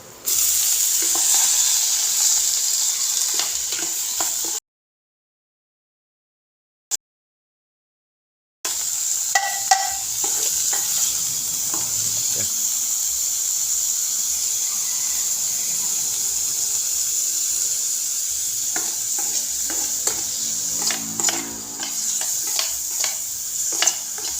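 Mushrooms sizzle steadily in a hot pan as they sauté, a constant frying hiss with occasional stirring scrapes and short pops, cut by a few seconds of silence early on.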